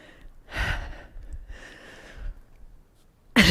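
Heavy, deep breaths during a live TRX total-body conditioning workout, two long close-miked exhalations about a second apart, followed by a sudden loud burst at the end.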